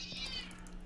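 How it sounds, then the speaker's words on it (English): A house cat lets out one short meow, faint and brief, over a low background hum. "I'm sorry about my cat."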